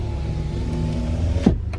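Electric power window motor on a 2007 Honda Pilot, a steady whirring hum that ends with a firm thump as the glass seats, followed by a faint click, close up with no talk.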